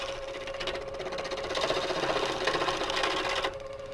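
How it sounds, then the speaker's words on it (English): A gouge cuts into wood spinning on a lathe, shaping a tenon with a steady, close buzzing scrape over the machine's hum, which swells in the middle and eases off near the end. "you start on the tool rest, you push in until you start getting a cut"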